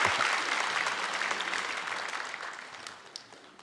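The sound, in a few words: congregation applauding to bless a child in church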